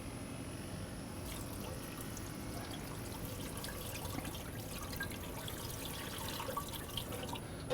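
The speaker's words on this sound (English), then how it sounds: "I'm just going to fill it up with water just below the grate" Water pours steadily into a cooking pot being filled just below a steaming grate for shrimp, a continuous splashing trickle at moderate level, close by and without talk.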